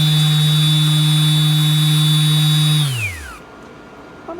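MAXXT brushless 350W random orbital palm sander running steadily on its highest setting, a loud, close, constant high whine that spins down and fades to quiet after about three seconds.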